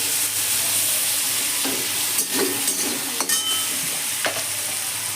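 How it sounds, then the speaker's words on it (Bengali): A metal spatula cuts a whole tomato in a pan of frying pointed gourd and potato, the few dull taps and scrapes sitting over a constant hiss of frying. "খুন্তি দিয়ে এইভাবে আমি কেটে দিচ্ছি টমেটোটাকে।"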